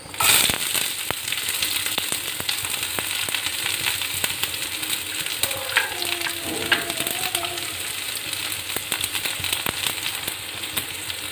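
Onions fry in a pan for an Elisery dish of pumpkin and beans, giving a close, steady sizzle with sharp crackles and pops throughout and a brief stirring scrape partway through.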